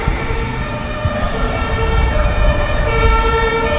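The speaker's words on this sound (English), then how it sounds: "Permanent sirens." Sirens wail continuously over a rumbling traffic background in Berlin, steady tones layered with road noise throughout.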